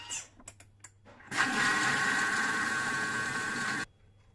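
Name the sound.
Thermomix mixing apple mascarpone batter at speed 4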